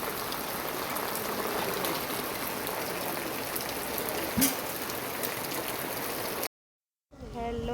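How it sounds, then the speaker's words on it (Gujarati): Heavy rain pours down in a village, a dense, steady hiss that holds at one level for several seconds before it cuts off abruptly. "તમે જોઈ શકો છો અમારા ત્યાં બહુ વરસાદ પડી રહ્યો છે।"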